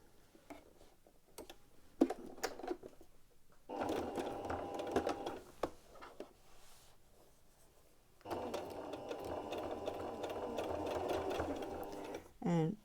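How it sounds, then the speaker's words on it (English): A sewing machine topstitches around a T-shirt neckline in two sustained bursts of close, rhythmic stitching, with quiet handling clicks and pauses between them. "So I'm just going to top stitch around the neckline."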